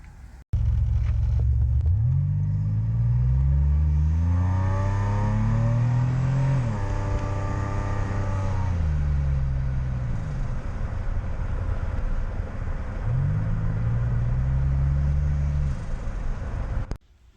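A car fitted with a Maxpeedingrods T3/T4 turbo is driven on a boost test, its engine loud and close as it revs up through repeated rising pulls, easing off between them.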